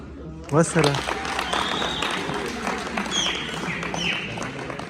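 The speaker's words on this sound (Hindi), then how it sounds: "बिल्कुल तालियों के साथ" Audience applause at a university farewell gathering, a dense, steady wash of clapping and crowd noise with voices mixed in throughout.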